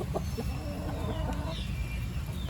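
Chicken clucking on a rural Tamil household yard near a clay cooking stove, short soft clucks repeating under steady low background noise, fairly close but not loud.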